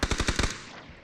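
Automatic gunfire in the PUBG battle royale game: a rapid burst of about six loud, evenly spaced shots, followed by a trailing echo that fades out.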